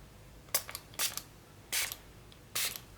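Four short hissing bursts of a spray bottle, spaced irregularly, each a quick pump of fine spray in a quiet room.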